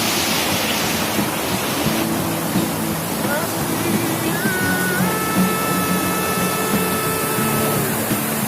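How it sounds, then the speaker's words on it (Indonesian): Halimbingan waterfall in the Parapat forest gives a steady, loud rushing roar that fills the whole stretch without pause, with faint voices and thin tonal sounds above it. "Nah, tuh udah mulai kelihatan air terjun Halibingan."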